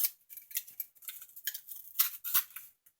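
Scissors snip repeatedly through material for a handmade doll, a quick irregular run of sharp close cuts with short pauses between them.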